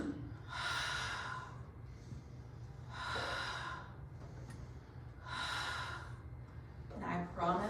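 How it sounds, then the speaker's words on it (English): Slow, deliberate yoga breaths come in three or four long, breathy exhales spaced a couple of seconds apart, close and soft, with quieter inhales between them. "We're gonna take that exhale."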